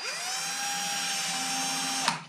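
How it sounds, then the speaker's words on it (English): A power drill bores a hole through a wooden guitar-making workpiece in a woodshop, a steady high whine held for about two seconds that stops abruptly near the end, with no talking. "drill a hole through there,"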